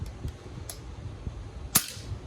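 An FX Impact .30 caliber air rifle with a 105cc plenum, charged to 200 bar, fires a pellet: one sharp, loud crack late in the clip, preceded by a couple of faint ticks over a quiet outdoor background.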